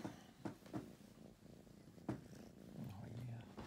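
A cat purrs close by in a quiet room, a soft continuous rumble broken by a few light thumps and rustles.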